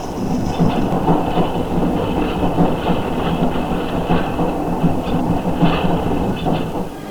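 The Tallinn-Virtsu narrow gauge train rolls along on its last journey in Estonia, a loud, continuous rumble with rhythmic clickety-clack of wheels on rail joints.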